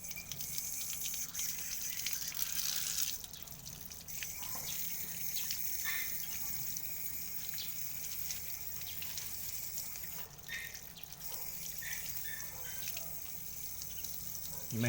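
Tap water runs steadily into a sink while developed film is rinsed, a continuous close splashing hiss with small trickles and drips, no talking.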